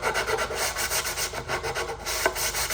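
Hand sanding of wooden glazing bars for a door with sandpaper, a steady close rasping rub repeated in quick back-and-forth strokes of even rhythm, with no voices.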